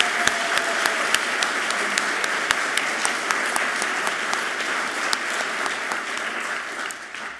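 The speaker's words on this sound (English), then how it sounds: "how about another round of applause for these 2 wonderful women?" Audience at an alumni awards ceremony applauding, a dense, sustained round of clapping with sharp individual claps standing out, fading slightly toward the end.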